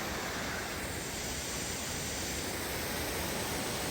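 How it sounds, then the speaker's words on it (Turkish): Waterfall at Upper Düden near Antalya, a constant broadband rush of falling water, steady and moderately distant with no other sounds above it. "Şu şelalenin güzelliğine bakın."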